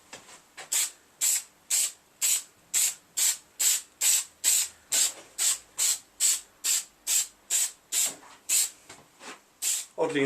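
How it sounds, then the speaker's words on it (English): Glue sprayed in short repeated bursts while fitting scrim in a garage, a regular series of about twenty sharp close hisses, each lasting under half a second, separated by brief gaps. "I'm going to fill all that up with glue and then get spraying"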